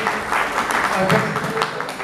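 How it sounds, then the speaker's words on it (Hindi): An audience at an Engineers Day celebration claps for the chief guest, a brief burst of scattered applause with crisp individual claps mixed under a speaking voice. "जोरदार तालियों के साथ"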